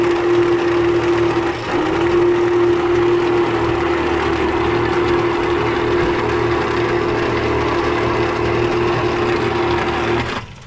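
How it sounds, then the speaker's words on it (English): The engine of a 1941 Plymouth Special Deluxe, a barn find parked for 30 years, turns over and runs with a steady mechanical hum and a sustained whine. It stays close and even, with a short dip early on and no voices. "we've got good engine motion here."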